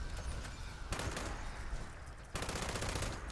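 Light machine gun fire in Fallout 76, a dense, continuous rapid burst of loud automatic shots with only brief breaks, no talking.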